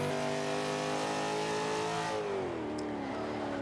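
A 1992 Ford Escort racing in Forza 5, its engine revving hard with a rising whine that dips at a gear change, loud and close, with a brief tire squeal and no voices.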